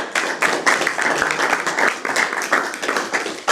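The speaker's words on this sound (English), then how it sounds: "So I propose we give Andrea a little round of applause." A crowd claps steadily throughout, a dense, continuous patter of many hands with small swells in volume, no voices standing out.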